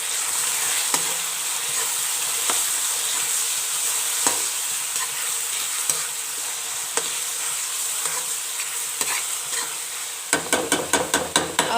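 Spices sautéing lightly in a pan for chana dal give a steady bright sizzle with occasional utensil taps. A run of quick rhythmic scraping stirs comes near the end, close and without talk.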